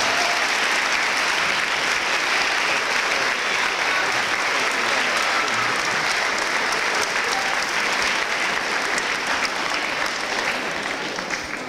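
Sustained applause from an audience at an eighth grade celebration, dense steady clapping filling the whole stretch with a faint murmur of the crowd.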